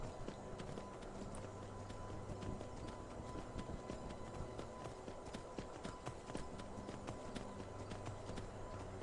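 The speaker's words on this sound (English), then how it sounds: "Come on, horse, we're nearly there." Horse hooves clip-clop steadily in the Skyrim video game, a continuous rhythmic trotting pattern under a low ambient game soundscape with no speech heard.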